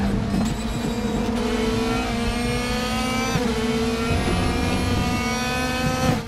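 A race car engine in the RaceRoom racing game drones loud and steady, revving and shifting pitch through gear changes while cornering, with no talk.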